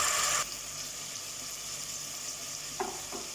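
Ginger garlic paste fries in a pan with a soft continuous sizzle, opening with a loud burst that settles, plus a couple of light stirring clinks later; no voices.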